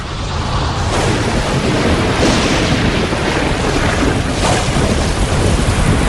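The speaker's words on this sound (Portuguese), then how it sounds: "Em qualquer mundo onde se espera ter vida, um pouco de chuva deve cair." Steady heavy rain pours down with a low rumble of thunder rolling underneath, a dense, continuous wash of sound close to the listener with no voices.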